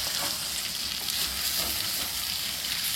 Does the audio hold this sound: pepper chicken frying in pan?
yes